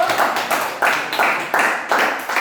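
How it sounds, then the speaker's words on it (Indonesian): Classroom students clap for a group that has just presented, giving several quick rhythmic bursts of clapping in a steady beat, close and fairly loud. "Oke, tepuk tangan kelompok 2"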